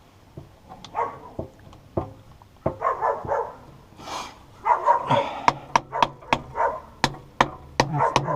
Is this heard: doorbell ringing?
no